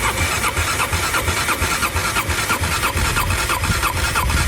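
A KTM motorcycle engine cranks over steadily during a compression test, a loud rhythmic churning of the starter at a quick even pulse that runs without a break and without voices.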